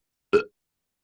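A single short, loud fake burp, a quick guttural belch in otherwise quiet surroundings.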